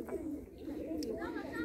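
A feather-footed pigeon at a village house gives soft low cooing, close by and mixed with children's voices and chatter in the background.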